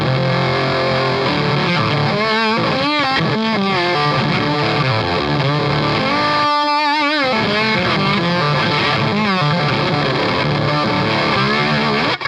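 A Reeves Electro pedal's Black Hat distortion drives an electric guitar loud and saturated through a run of riffs, with a short choppy gated break before the fuzzy playing resumes to the end.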